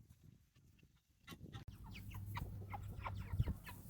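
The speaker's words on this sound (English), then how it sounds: "These are our Cornish Cross birds, and today is butcher day." Cornish Cross meat chickens outdoors on butcher day cluck and chatter softly nearby, starting quiet and building into a busy, overlapping run of short clucks.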